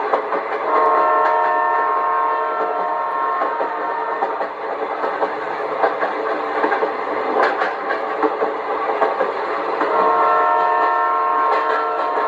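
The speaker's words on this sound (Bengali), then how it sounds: "ঠিক একই সময়ে ডাউন লাইন দিয়ে এগিয়ে আসে যশবন্তপুর এক্সপ্রেস" The Yeshwantpur Express comes in on the down line, a steady rumbling roll of wheels and carriages with horn-like tonal blasts near the start and again near the end, loud and continuous.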